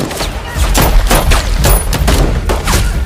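A soldier fires a pistol in a rapid series of sharp, close reports, roughly seven or eight shots spaced unevenly over a few seconds, each cracking over a rumbling background of battle noise.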